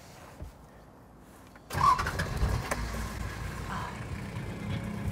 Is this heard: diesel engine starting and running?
yes